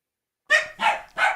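Dogs barking indoors, three loud close barks in quick succession after a moment of silence.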